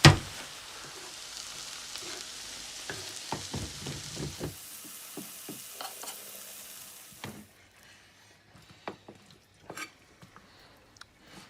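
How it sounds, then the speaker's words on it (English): Onions, peppers, chilies, carrots, celery and garlic sweat in a pan with a soft, steady sizzle, broken by close stirring scrapes and clatter that fade to quieter crackles. "So sweating down the onions, peppers, chilies, carrots, celery and garlic."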